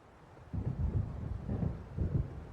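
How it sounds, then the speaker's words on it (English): Thunder from an approaching storm in the video game Alan Wake, heard as low, distant rolling rumbles that swell in several waves with no voices. "It seems there's a storm coming"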